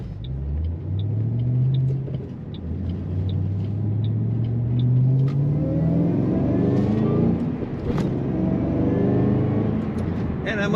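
A 2007 Ford Mustang Shelby GT500 with a 500-horsepower engine and six-speed manual, accelerating hard through the gears with a deep rising rumble, a brief dip at a shift, then a steady high-revving drone, loud from inside the car while someone talks.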